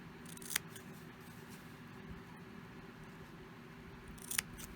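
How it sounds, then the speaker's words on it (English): Scissors snip the corners of a fabric children's face mask, two quiet, crisp cuts about four seconds apart over a soft steady background hum. "And then we're going to cut the corners."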